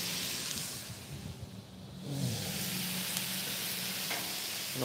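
Soy sauce sizzles on a hot griddle with jalapeno chicken fried rice. The hiss is steady and fairly close throughout, and a spatula scrapes and stirs now and then.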